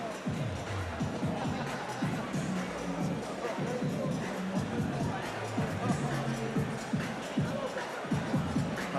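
Boxing crowd at York Hall in London keeps up a continuous murmur of chatter and scattered shouts, with a commentator's voice speaking over the hall's ambient hubbub.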